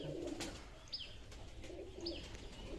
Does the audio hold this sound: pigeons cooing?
yes